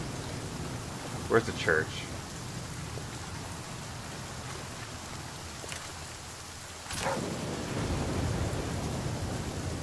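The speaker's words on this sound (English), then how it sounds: "God damn it, rain. Always with the rain" Continuous rainfall in The Flame in the Flood survival game, a soft even hiss under occasional speech, swelling louder near the end.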